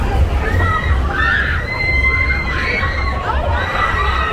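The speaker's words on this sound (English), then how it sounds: "There goes the screaming." Crowd screams rise from riders on a spinning fair ride at an Italian street feast in Bensonhurst, Brooklyn, shrill voices surging and falling over a steady mechanical rumble and outdoor bustle.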